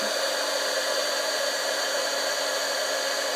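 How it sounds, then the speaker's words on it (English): Heat tool blowing hot air while embossing a birthday card for card making, a steady, loud, continuous whoosh and whir that holds even and unbroken throughout, with no talking. "Then I'll take my heat tool and heat it up."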